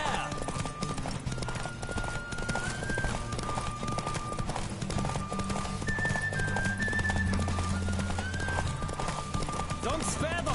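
A horse gallops in The Witcher game during a race, hooves clip-clopping in a fast, steady rhythm under music, with a brief whinny near the end.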